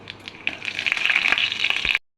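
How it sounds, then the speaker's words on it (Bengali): Five-spice tempering sizzles and crackles in hot mustard oil for a Katwa stem curry with hilsa head and tail, a steady close, bright frying hiss with small pops that swells and then stops abruptly. "সর্ষের তেলের উপরে ফোড়ন দিলাম, পাঁচ ফোড়ন"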